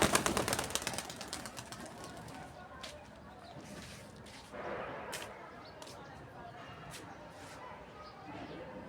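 Two pigeons are released and take off with a quick burst of flapping wings at the start that fades fast, leaving quiet rooftop ambience, a few faint taps and low murmuring voices in the distance.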